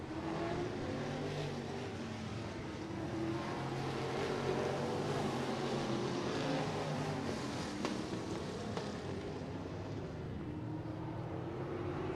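Race cars lap Agassiz Speedway with a steady engine roar that swells and fades as the pack passes, sounding moderately distant through a broad, continuous drone.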